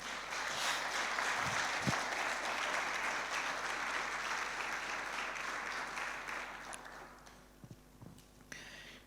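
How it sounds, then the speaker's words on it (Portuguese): A church congregation applauds together in a broad, sustained wash of clapping that gradually thins and fades, with a few stray claps and thumps near the end. "Aplauda."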